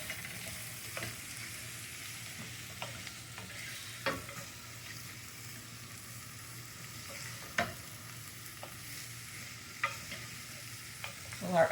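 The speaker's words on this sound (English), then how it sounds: "Give it a little stir, kind of brown it with the oil." Chicken pieces fry in hot oil for a stir-fry, a steady sizzle running throughout while a utensil clicks and scrapes against the pan every few seconds in stirring strokes.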